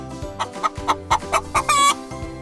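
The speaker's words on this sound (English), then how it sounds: "That's right, it's a chicken." A chicken clucks in a quick series of short, close, loud bursts, ending in a longer drawn-out squawk, with soft background music underneath and no voices.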